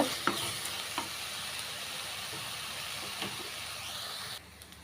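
Small onions for a chutney frying in oil, a steady close sizzle with a few light stirring clicks, then the sound drops away near the end as the heat goes off.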